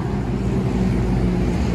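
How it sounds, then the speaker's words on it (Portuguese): Trucks pass on a road near Ponta Grossa in Paraná, Brazil, making a steady, loud low rumble mixed with wind noise that continues without a break. "E aqui passa muito caminhão"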